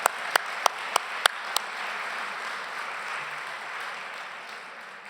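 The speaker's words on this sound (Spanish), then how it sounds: "Damos un aplauso." A few distinct hand claps ring out first, then a broad, steady wash of clapping from a crowd continues for several seconds.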